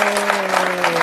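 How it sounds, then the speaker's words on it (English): A short burst of audience applause after a magic trick, a brief patter of clapping against a faint steady hum. "there you got yourself a nice big round of applause"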